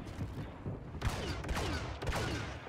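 Explosive sniper shots in Star Wars Battlefront: three or four sharp blasts with descending whine-like tails, spaced roughly half a second to a second apart over a steady rumbling battle background, moderately quiet.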